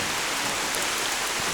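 Heavy rain pours down steadily outdoors at Wat Chaloem temple in Lampang, Thailand, a dense, even hiss of drops with no break and no voices.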